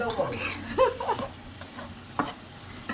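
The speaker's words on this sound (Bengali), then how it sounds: "আমাদের পুপি রান্না করছে।" Food cooking in a pot gives a steady low sizzle with scraping stirring strokes, close, and faint voices murmur in the background.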